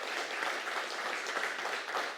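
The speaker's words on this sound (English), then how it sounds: "let's give them a round of applause" Steady applause from an audience at a forum on teen violence, thanking the panelists. Moderately distant, continuous clapping with no voices.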